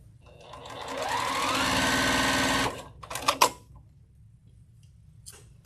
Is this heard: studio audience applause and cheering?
no